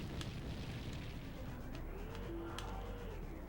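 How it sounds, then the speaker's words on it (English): An explosion from the N64 game Body Harvest plays as a dense, low, rolling rumble that lasts the whole moment, with a few faint higher blips from the game sound on top. "I don't know, it looks like you kind of exploded."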